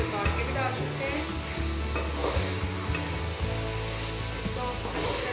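Pickle and whole green chillies roasting in a pan of oil for chana pulao, a dense continuous sizzle with stirring, loud and close throughout.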